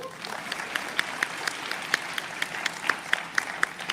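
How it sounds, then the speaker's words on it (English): An audience at a journalism conference opening ceremony applauds with a short, moderately loud run of distinct overlapping claps, a fairly small crowd heard from a short distance. "Please give a round of applause for NABJ."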